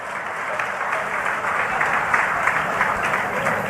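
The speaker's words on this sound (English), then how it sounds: "Please, a big round of applause." An audience on a talk show stage gives a loud, steady round of applause, a dense continuous clatter of many hands clapping throughout with no speech over it.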